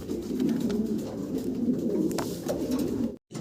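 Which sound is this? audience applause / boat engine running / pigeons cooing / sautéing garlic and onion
pigeons cooing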